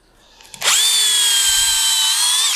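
Power drill with a 6 mm bit boring a small hole into a solid wood bowl blank, a loud steady whine starting abruptly after a faint clunk and holding continuously.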